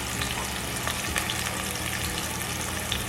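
Garlic sautéing in a hot pan while cooking a corn soup with quail egg, a steady, dense sizzle and crackle of frying with faint stirring, close and continuous throughout.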